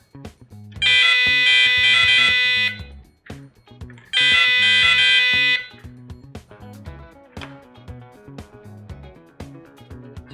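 An electronic fishing bite alarm pager in audible mode gives two loud, shrill, sustained electronic tones, each lasting a couple of seconds with a short pause between them, over faint clicks and handling noise.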